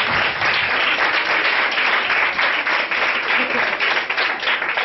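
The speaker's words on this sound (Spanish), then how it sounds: "Un aplauso para el secretario" Audience at a Spanish school quiz contest applauding the secretary, a loud, dense burst of clapping that holds steady for several seconds.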